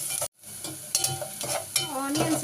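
Onions with salt frying in a pan for chicken pulao while being stirred, a steady close sizzle broken by a brief silent gap and several scraping stirs.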